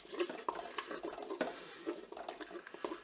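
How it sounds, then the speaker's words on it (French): A spoon stirs two kinds of melting chocolate for a praline spread, scraping and tapping against the pot in a continuous, uneven rhythm, close and moderately quiet. "Je vais mélanger les deux chocolats bien sûr. Bien sûr, on mélange au fur et à mesure."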